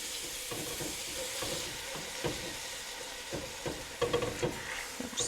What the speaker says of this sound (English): Now I'm going to deglaze the pan. I'm going to add my Guinness,